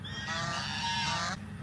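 Farm fowl in Goa, including black Muscovy ducks, let out a single loud, honking call lasting about a second, close by over faint background noise.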